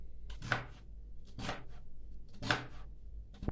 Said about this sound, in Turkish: Doğruyorum.